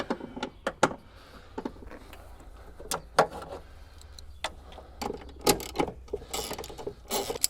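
Sharp ratchet clicks and short mechanical bursts come in scattered groups as a socket wrench backs out 8mm bolts holding the headlight on a BMW E36, close up with no talking.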